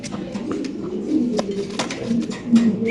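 Male silver Lahori pigeon cooing close by, a soft repeated low throaty coo rolling on for several seconds with faint rustling and background chatter of other birds.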